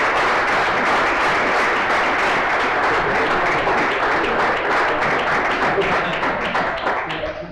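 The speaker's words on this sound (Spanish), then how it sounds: "Y un fuerte aplauso a Aitor!" An audience at a homebrew beer awards gala claps loudly and continuously for several seconds, with a few voices mixed in before the applause thins out at the end.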